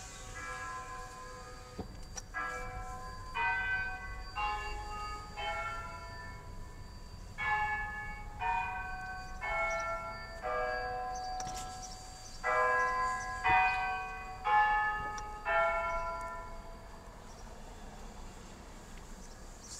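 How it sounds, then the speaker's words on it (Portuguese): A church bell tolls in Maricá, Rio de Janeiro, heard from a passing car: a steady series of evenly spaced ringing strikes, moderately distant, over a low background rumble with no speech. "passando em frente à igreja, pessoal? justamente na hora que o sino resolveu marcar aqui."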